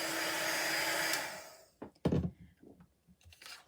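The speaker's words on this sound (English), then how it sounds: "from the front you can just go ahead and heat up the embossing powder" Heat tool blowing on embossing powder on a card, a steady close whirring blast for over a second before switching off, followed by a few soft knocks and handling sounds.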